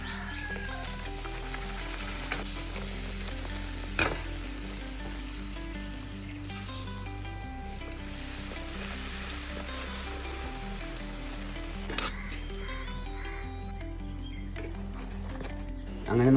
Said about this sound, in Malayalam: നമുക്ക് എണ്ണയ്ക്ക് ഇട്ട് കൊടുക്കാം.